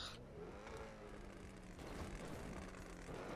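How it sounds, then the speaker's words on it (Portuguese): Aircraft engines drone faintly in GTA 5 as planes hit a ramp, a steady propeller-like hum that thickens and grows rougher partway through, with no voices. "Os aviões estão batendo na rampa."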